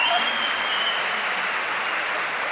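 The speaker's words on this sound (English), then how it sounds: "Give a clap for the flashbang dance." A large esports crowd at a CS:GO championship final applauds steadily, a dense, loud and even wash of clapping that holds for a couple of seconds with no voices on top.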